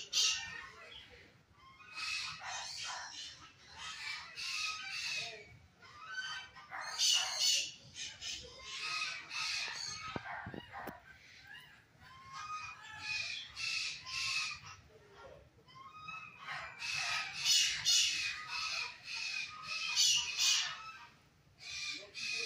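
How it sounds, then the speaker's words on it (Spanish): Recorded bird and animal calls play quietly in a garden, including repeated caws and squawks in uneven bursts throughout. "los sonidos de los pájaros, los sonidos de los animales"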